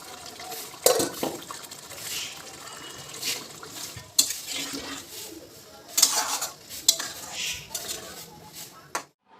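Water poured into a pot of cooking chicken, splashing and bubbling with clattering scrapes of a spoon against the pan, a few sharp knocks standing out over a steady wet background.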